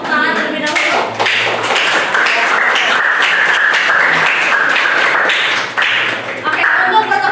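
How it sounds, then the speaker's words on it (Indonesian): A class claps together at the end of a history lesson, loud rhythmic clapping in bursts with voices mixed in. "Tepuk tangan terlebih dahulu."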